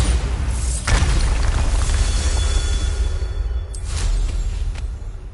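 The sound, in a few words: Bombarda spell explosion in a video game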